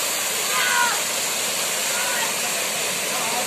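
Steady roar of the Lekhapani waterfall in Tinsukia district, a dense, loud, continuous rush of falling water that fills the scene without pause.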